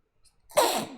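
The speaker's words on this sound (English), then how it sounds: "Sorry about the sneezing." A single close sneeze indoors, a short breathy intake followed by a sharp, loud burst that tails off quickly, with no talk.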